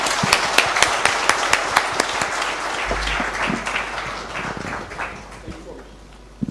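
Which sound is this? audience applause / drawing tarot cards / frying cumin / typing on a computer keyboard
audience applause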